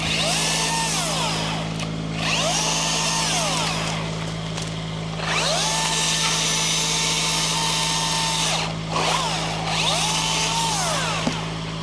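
Milwaukee power tool cutting maple tree branches, a loud close whine over a steady motor hum, pitch sagging under load and recovering across three or four long cuts.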